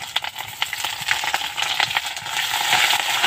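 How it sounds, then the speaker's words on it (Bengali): Ginger sizzling and crackling in hot oil with browned potatoes and five-spice in a pan for Bengali puimichuri, with a steady close frying hiss and scattered sharp pops and stirring scrapes, no voices. "আদাটা দিয়ে আদাটাও ভাজা ভাজা করে নেব।"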